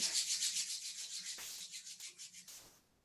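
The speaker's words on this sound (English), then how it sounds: "Beginning to rub your hands together to generate some heat." Palms rubbed briskly together during a yoga flow, a steady run of about a dozen close, dry swishing strokes, near and fairly loud with no talking.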